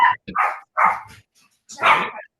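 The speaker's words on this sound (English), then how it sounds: "I got dogs. You got a dog?" A dog barks in sharp, close bursts, about five yips and barks spaced by short silences, loud and alone.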